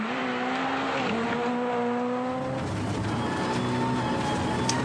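A rally car on studded tyres revs hard through a snowless special stage of the 2015 Liepāja Rally, its engine note climbing and shifting through gears as it passes at moderate distance, loud and steady with no voices.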